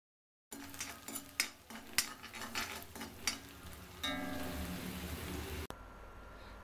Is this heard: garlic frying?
yes